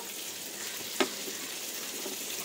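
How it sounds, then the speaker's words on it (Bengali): Pointed gourd frying in hot oil gives a steady, even sizzle from start to end, with one brief sharp click partway through and no voices. "পটলগুলো ভাজা হোক"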